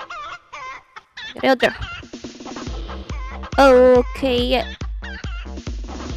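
Cartoonish turkeys in the video game Avakin Life cluck in short, loud bursts with electronic game sound effects, while a person talks between the calls.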